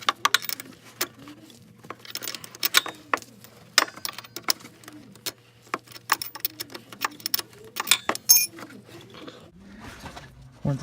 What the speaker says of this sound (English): So I'm gonna take our handy wrench here, make sure it's on there good.